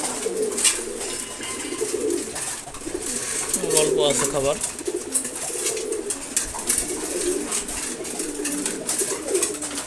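Pigeons, a pair of khaki pigeons among them, coo in soft repeated bursts close by at morning feeding, while a person speaks briefly and light clinks sound in the background.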